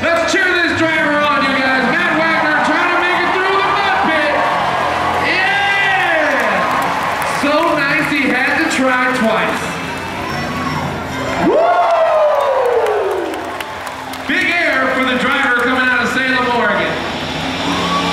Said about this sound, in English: Let's cheer this driver on.